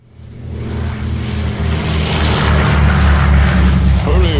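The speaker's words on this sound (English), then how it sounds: "The platform rises to the surface just in time for them to see Brunhilde's plane take off." Propeller plane taking off in a Batman & Robin and Wonder Woman audio drama, a loud, steady engine roar that swells and holds throughout, heavy low rumble with rising whine near the end.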